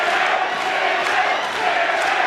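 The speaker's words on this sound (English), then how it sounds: "Crowd start chanting for Timmy Bell here" A boxing crowd chants for fighter Timmy Bell during round 11, a dense, steady roar of many voices that fills the whole stretch with no break or lull.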